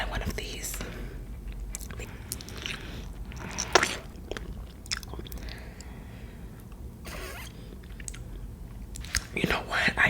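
Soft, squishy chewing and biting on a jelly fruit with whole strawberries set inside, close and intimate, with a few louder bites standing out against quiet whispered talk.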